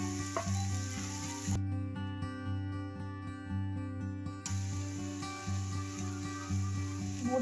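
Banana flower and chopped drumstick leaves sizzle in a pan for a Tamil-style varai, a steady close frying hiss under a strong low musical backing, without speech.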